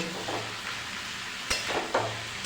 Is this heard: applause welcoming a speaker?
no